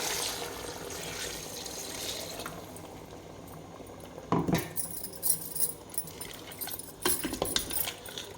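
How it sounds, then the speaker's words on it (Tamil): Water is poured into a pot of chicken curry with drumstick and potato, giving soft liquid splashes and sloshing amid faint kitchen clatter, with brief louder bursts near the middle and end. "இதுக்கு தேவையான தண்ணியும் சேர்த்துக்கலாம்"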